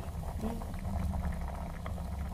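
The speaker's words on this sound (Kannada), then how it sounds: "ಇದು ಒಂದು ಸ್ವಲ್ಪ ಕುದಿಬೇಕು" A fenugreek palya mixture with fresh coconut, jaggery and turmeric bubbling in a pot: a steady, soft, low burbling simmer with small irregular pops, continuous and close, with no talk.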